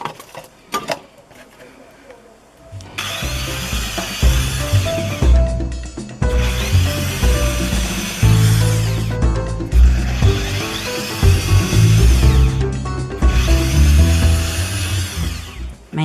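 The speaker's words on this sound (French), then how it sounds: "je vais faire des trous ici, 2 trous chaque côté, pour pouvoir attacher ma base sur le haut de ma mangeoire" A drill boring holes through a cardboard bird feeder, heard as four sustained whirring bursts separated by short pauses, preceded by a few light handling clicks; close and fairly loud.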